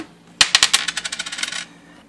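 A penny scraped along a kitchen knife blade while prepping zucchini and onions, giving a quick run of about a dozen bright metallic rasps that start hard and fade out over a second, close and alone.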